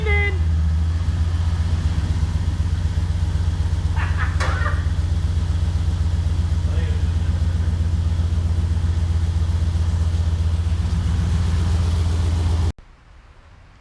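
A freshly built turbocharged LS engine in a Chevrolet C10 truck runs on its first start, holding a steady, loud, low idle rumble that cuts off abruptly at the end.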